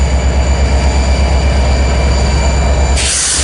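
A pair of BNSF diesel locomotives, a GP39-2 and a GP39, work near a rail tower in Fremont, Nebraska, producing a loud, steady low engine rumble with a constant metallic whine that cuts off near the end.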